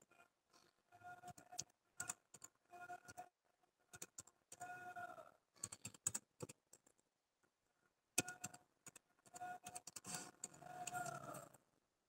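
Keys clatter on a computer keyboard during MS Excel 2013 work, quiet close bursts of rapid clicks broken by short pauses, with no voices.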